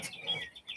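Small birds chirp outdoors in short, bright tweets, a few quick calls scattered across a brief moment, moderately faint against light background noise.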